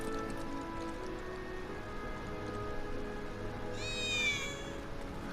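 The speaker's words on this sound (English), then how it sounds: "did you hear that just now? I think one of Betty's cats might be nearby" A single short cat meow rises briefly over a steady background of rainfall and low ambient hum in the video game Final Fantasy 7 Remake.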